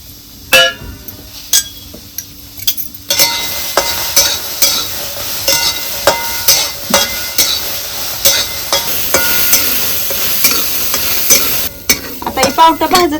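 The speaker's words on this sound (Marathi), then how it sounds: "पावटं भाजत आल्यात." Field beans (pavta) dry-roast in a hot pan with a dense crackling sizzle and repeated scraping stirs, along with occasional sharp clinks of the spatula against the pan's edge.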